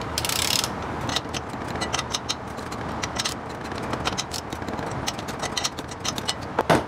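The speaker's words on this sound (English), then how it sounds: "torque wrench is set to 25 foot-pounds" A torque wrench set to 25 foot-pounds tightens bolts on torque plates for an air-cooled VW engine, giving a run of quick ratcheting clicks and sharp mechanical ticks, close and fairly quiet, with no talk.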